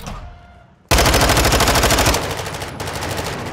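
Automatic weapon fire in a video game, shooting through a wall, erupts after a brief quiet lead-in into a loud, sustained rattle of rapid shots that continues without a break to the end.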